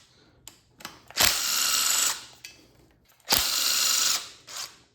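A power tool removes lifting bracket bolts from a 2013 Ford Taurus SHO engine: two sharp, loud whirring bursts of about a second each, separated by short pauses and quieter mechanical clicks.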